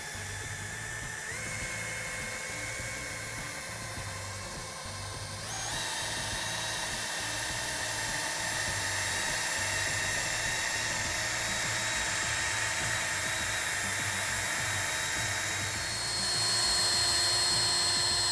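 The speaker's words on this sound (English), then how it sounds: "I'm going to securely hold the drill." A steady, high-pitched whine of a drill-driven polisher buffing scratches out of car paint, running continuously and shifting pitch slightly as the motor speed changes.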